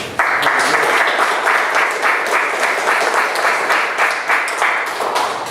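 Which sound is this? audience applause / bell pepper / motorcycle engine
audience applause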